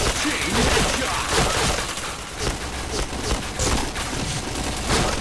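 Rapid bursts of automatic gunfire and shots fill a Point Blank match, dense and continuous throughout, loud and close.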